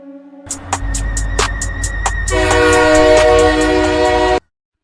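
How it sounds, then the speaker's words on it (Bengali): A train pulls into a station and comes to a stop late at night, its horn sounding in loud repeated blasts over rumbling wheels before a sustained whistle blares and cuts off abruptly, with no talk. "ট্রেন ধীরে ধীরে থামল"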